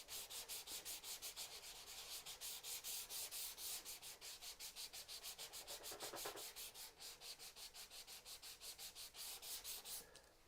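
Hand sanding of a wooden wall cabinet with worn 180-grit sandpaper: a steady, close rasping scrub in quick regular back-and-forth strokes, continuous throughout with no talk.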